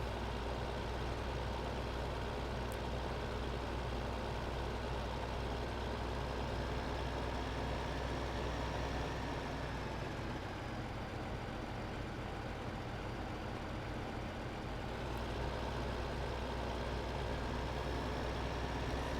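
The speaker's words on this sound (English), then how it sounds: "I love this tractor. This is a cool and mean looking tractor." A big tractor engine in the Farming Simulator 15 game runs with a steady low drone and a constant hum for the whole stretch. The sound stays even, with no talking.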